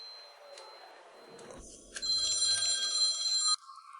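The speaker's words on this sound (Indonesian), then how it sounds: "bentar aku angkat telepon dulu" A telephone bell rings in a steady burst of about a second and a half, loud and close, then cuts off abruptly, with faint room sound before it.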